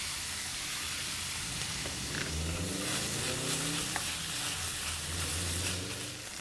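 Chopped, precooked bacon is added to softened onions in a pan and sizzles loudly and close, a dense hissing fry that is stirred throughout, with no voices.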